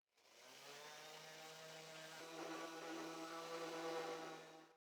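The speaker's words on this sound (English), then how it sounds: "I'll do a quick sanding to improve the finish." Power sander smoothing a reclaimed wooden workpiece in a woodworking shop, a steady motor whine with a constant buzzing tone that holds throughout, close and moderately loud, with no talking.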